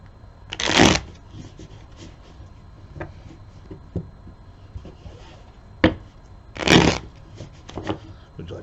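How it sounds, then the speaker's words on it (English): Playing cards are shuffled during a family card game, with two loud riffle bursts spaced a few seconds apart and lighter taps and handling between them, among quiet voices in the room. "bear with me while I shuffle."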